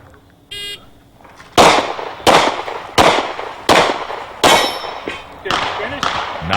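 Pistol fire at an IDPA shooting competition, a steady string of six loud, sharp shots about two-thirds of a second apart, each ringing out, after a brief electronic beep from a shot timer.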